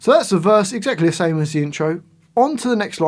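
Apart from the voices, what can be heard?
None of the usual background noises is heard.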